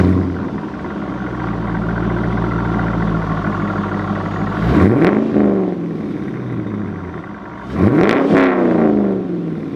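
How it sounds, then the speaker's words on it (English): An engine idles with a steady rumble, then revs hard twice, climbing sharply in pitch each time before settling back. No one speaks. "Yeah, fire it up, Carl."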